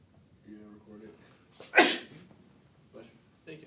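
A single sharp, loud sneeze bursts out in a quiet room during an electronic music class concert, preceded by faint murmuring voices and followed by brief talk.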